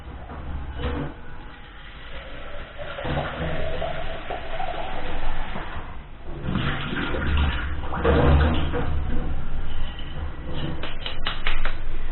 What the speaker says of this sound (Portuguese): E aí você coloca, só para prender o tule, escorre essa água.